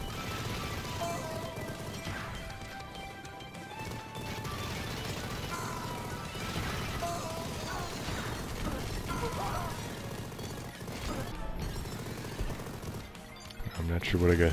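Rapid machine gun fire and explosions blend with music and dense battle noise in the Xbox One video game Mighty Goose, a continuous busy barrage with louder impacts near the end.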